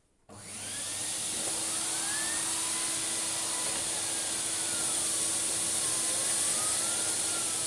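Vax 6130SX vacuum cleaner switching on and sucking up sawdust, a sudden start rising into a steady loud whining roar with a faint shifting whistle as debris passes through, no voices.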